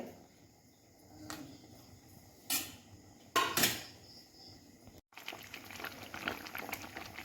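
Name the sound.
mustard curry with pabho fish boiling in pot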